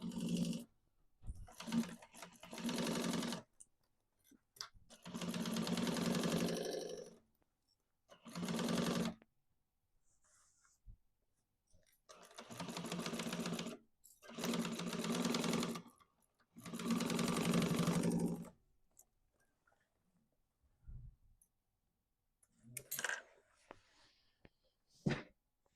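Sewing machine running across the lining panels of a duffel bag in several separate bursts of steady whirring, stopping and starting with quiet gaps between runs, close by and without talk.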